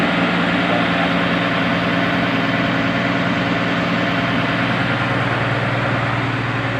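A Komatsu PC200 excavator idles at a repair workshop, its diesel engine giving a loud, steady, close low rumble with a constant hum that runs unbroken and without talk.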